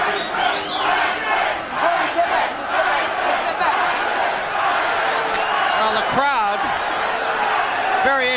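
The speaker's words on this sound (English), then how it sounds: "they are yelling Tyson, Tyson" Arena crowd at a heavyweight boxing bout between Mike Tyson and James Bonecrusher Smith, a loud, sustained roar of yelling and chanting that swells in waves throughout, with a commentator talking over it.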